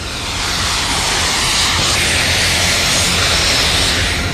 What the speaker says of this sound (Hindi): फ्लाइंग हॉवरबोर्ड कैसे हवा में फर्राटे भरता है